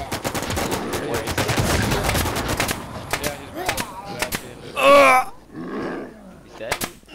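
A nail gun fires in the video game Infestation Survivor Stories, a rapid string of sharp, loud, repeated shots in quick succession, heard along with talking voices.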